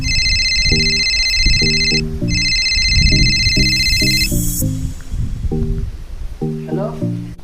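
A steady electronic phone ring beeps with a brief gap over a plinking melody, loud and close, then stops while the tune continues.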